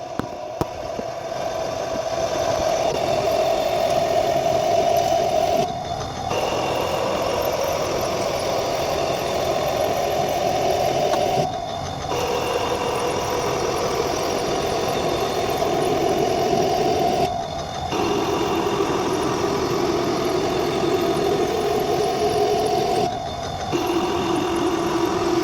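A CNC lathe rough-turns a hammer handle with its feed rate raised, giving a steady loud mechanical drone that drops out briefly about every five to six seconds as each pass ends.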